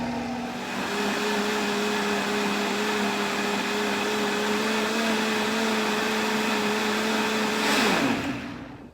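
A blender purees creamy tomato basil soup with a loud, steady motor whir and churning liquid that holds for several seconds, then winds down sharply at the end, with no voices over it.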